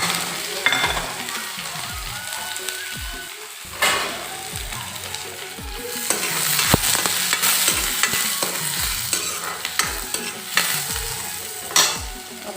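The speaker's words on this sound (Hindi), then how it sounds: "मैं तेल डाल दी है मिर्चा डाला और अभी ये प्याज डाल देता हूँ" Chopped onions and chili frying in hot oil in a home kitchen, a bright steady sizzle with frequent scraping and knocking of a spoon stirring the pan, loud and close with no talking.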